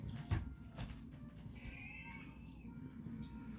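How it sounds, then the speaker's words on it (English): A pet cat meows faintly indoors, a short wavering mew rising and falling over a low background hum, with a few soft knocks and rustles nearby. "This is Jasper, ladies and gentlemen. Jasper the cat"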